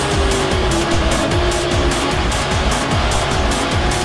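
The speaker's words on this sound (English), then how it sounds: "throwing the car into 6th gear." A race car on a mountain drift course accelerates hard and shifts into sixth gear, its engine roaring loud and close with a rapid pulsing drone and a rising tone, and no voices over it.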